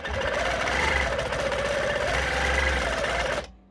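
A sewing machine stitches in one continuous run of rapid needle strokes at close range, steady and fairly loud, then stops abruptly with no talk over it.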